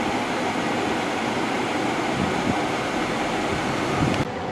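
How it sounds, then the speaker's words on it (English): Steady loud blowing roar of a 2021 Kia Seltos SX Turbo AWD air conditioner inside the cabin, a constant broadband rush with faint low rumbles, running without pause throughout. "This air conditioner is reasonably effective, but it's very noisy too."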